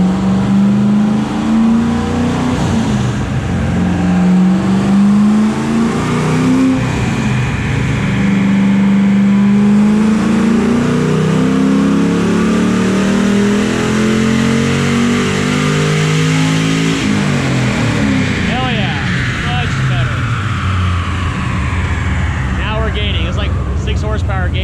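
Car engine revving hard on a dynamometer pull, a loud rising engine note climbing steadily for over fifteen seconds before easing off, with excited voices talking over it.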